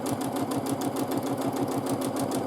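A sewing machine stitches during free motion quilting, its needle running in a fast, even, continuous rhythm close by with no talk.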